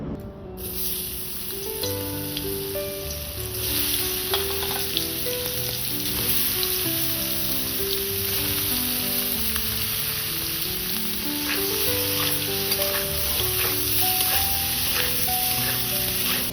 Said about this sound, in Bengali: সিদ্ধ করে রাখা এঁচোড়টা ভেজে নেব